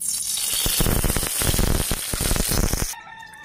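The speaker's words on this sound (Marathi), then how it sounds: "आता त्यात तेल टाकते।" Oil crackles and sizzles loudly in a hot kadhai set over a wood-fired chulha, a dense close hiss that cuts off suddenly near the end.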